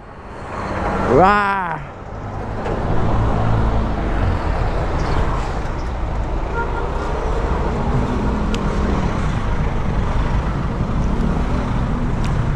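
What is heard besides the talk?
large truck passing on the road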